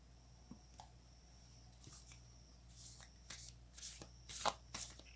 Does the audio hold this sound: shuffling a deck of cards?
yes